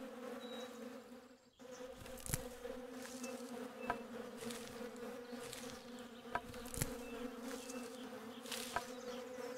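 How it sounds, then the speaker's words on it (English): Bees buzz in the Wild West survival game Above Snakes, a steady droning hum with a few sharp clicks and thuds from the game scattered through it, no voices. "Wait, I heard bees."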